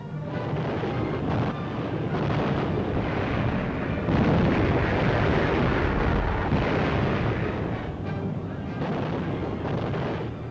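Bombs exploding on a German supply base in the Egyptian desert in a World War II film bring a continuous heavy rumble of blasts, dense and loud, rolling on without a break.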